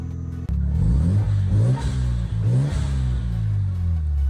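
A Mazda FD RX-7 rotary engine, back running after a crash rebuild, starts up and revs up and down several times, loud and close, then settles to a rough idle with no talking.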